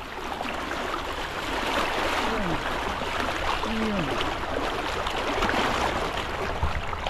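A strong river current in Taiwan rushes and churns over rocks in a broad, constant roar, with faint splashing and brief voice-like calls swept into the flowing water.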